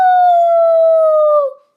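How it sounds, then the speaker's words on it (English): A dog gives a single loud, sustained howl, close by, holding a steady pitch before sliding down and fading out at the end. "Came an answering howl."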